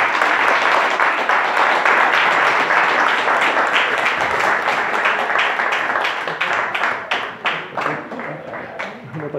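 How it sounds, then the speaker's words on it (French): Church congregation applauding together, loud sustained clapping that thins into more scattered, individual claps toward the end, with voices murmuring underneath. "On peut applaudir le Seigneur pour leur vie."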